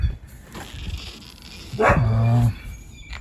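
A dog gives a short burst of barking and whining, a loud close yelp sliding into a whimper, set against the hum of a garage where a 1964 International Harvester Travelall parts truck is being worked on.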